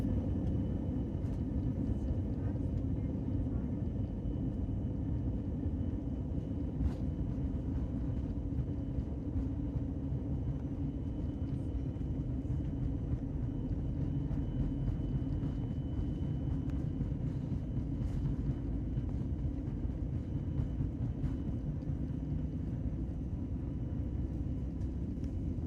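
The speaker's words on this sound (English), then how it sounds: "A nice quick takeoff into fairly moody looking skies" Delta Airbus A321 jet taking off from LGA, a steady, loud low-frequency engine roar and rumble from inside the cabin, continuous and even throughout with no talking.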